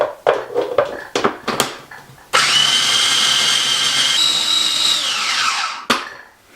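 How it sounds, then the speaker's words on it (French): A kitchen blender whirs loudly and steadily for about three seconds while mixing mustard, salt and a vegetable mixture, its pitch holding then dropping as it winds down, with a few knocks and clatters before and after. "Je vais mixer le tout"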